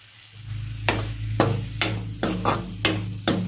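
Cooked brinjal poriyal being mixed with spice powder, heard as a run of about seven regular scraping strokes of a spoon through the vegetables in a pan, close up over a low steady hum, with no voices.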